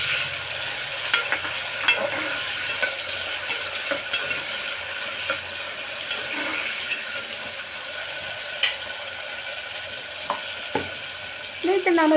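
Long-sliced onions hit hot oil for green chilli chicken, giving a steady, bright sizzle with scattered clicks and spoon taps throughout.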